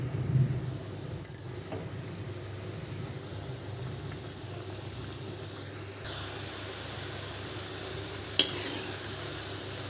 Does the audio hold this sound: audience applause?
no